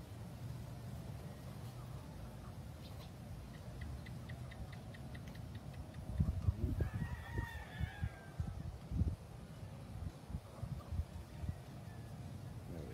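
Farm chickens cluck in the background over low steady noise, with a rooster's crow rising in the middle and a burst of nearby clucking and scuffling after it.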